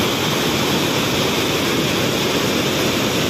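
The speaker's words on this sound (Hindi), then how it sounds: "इधर देखिए बहुत तेज़ पानी आ रहा है भाई, बहुत तेज" Lafri waterfall at Lafri Ghat roars with fast, rushing water, a loud, dense, continuous wash of noise filling the whole three seconds, close by and without any talking.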